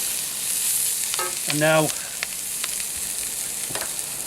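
Onions, celery and garlic fry in a cast iron pan with a continuous sizzle. A voice speaks briefly over it, and a few utensil clinks follow.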